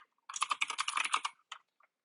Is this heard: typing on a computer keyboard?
yes